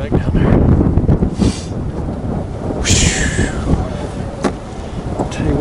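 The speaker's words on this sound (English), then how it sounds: "that wind's cold" Cold wind gusts across the microphone outdoors while catfishing for flathead, a steady rumbling buffet that swells and eases throughout, with a couple of brief sharper noises mixed in.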